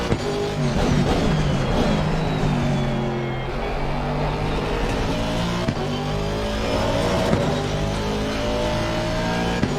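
A GT3 race car engine in a racing video game at Paul Ricard drones steadily at high revs throughout, with a constant whine and no voices.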